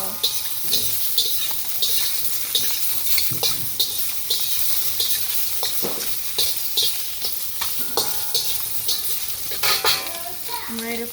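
Seafood and cooked meatballs stir-fried in a pan, with steady sizzling under repeated scraping and clacking of a utensil stirring against the metal, close and continuous throughout.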